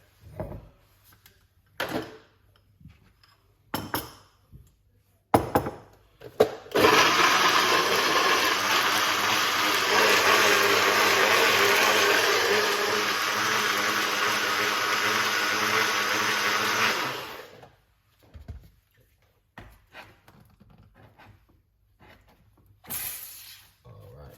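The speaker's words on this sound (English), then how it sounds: "let's blend" A countertop blender whirs loudly for about ten seconds as it blends ginger, pineapple and lime, then spins down to quiet, with clinks and handling before and after.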